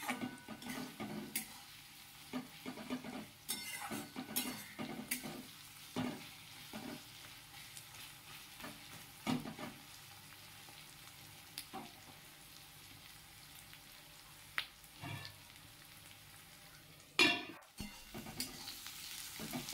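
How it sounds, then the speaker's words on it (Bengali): Onions frying for a chicken curry in a partly covered pan, a soft, quiet sizzle broken by repeated scraping stirs of a spoon. "একটু ঢাকা দিয়ে ভাজলে পেঁয়াজগুলো ভালোভাবে নরম হয়ে আসবে"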